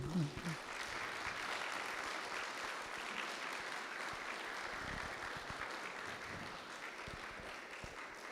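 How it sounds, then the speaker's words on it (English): Audience applause for a presenter at the Crazy Horse Monument, a steady wash of many hands clapping that holds throughout at moderate loudness, with a few brief voices near the start. "Let's give him a round of applause."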